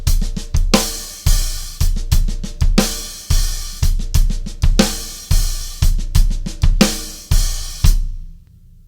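Drum kit playing a half-time shuffle groove, with sharp kick and snare hits over steady swung hi-hat, repeating evenly for several bars, close and loud, before stopping abruptly into silence.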